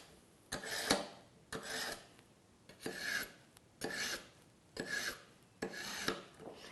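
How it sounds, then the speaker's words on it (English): A Kitchen IQ adjustable manual sharpener sharpens a knife. Six evenly spaced, close raspy strokes grate through the slot, each a short scrape with a brief pause between pulls. "now both slots are ready for me to sharpen the knife. I'm going to pull it 5 to 10 times on each side."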